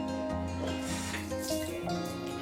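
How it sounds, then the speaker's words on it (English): Water runs steadily from a tap, a continuous splashing hiss with a faint tonal hum underneath, close by and moderately loud. "I mistakenly open the shower and then I go for the tap."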